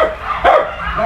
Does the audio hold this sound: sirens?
no